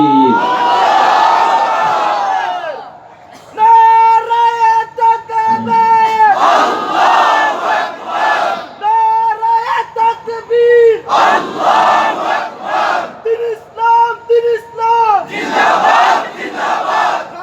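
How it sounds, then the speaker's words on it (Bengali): A large crowd at an Islamic religious gathering in Noakhali roars a takbir chant, answering a leading voice over a loudspeaker in loud, alternating call-and-response bursts. "জমিন আকাশ কাঁপানো একটা তাকবীর দেন"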